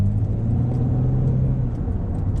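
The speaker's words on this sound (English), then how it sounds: "Now the car is somewhat cold and it's moving under its own power relatively easily." A BMW Z3 drives after a transmission service, its engine a steady low rumble from inside the cabin with faint higher clicks, no speech over it.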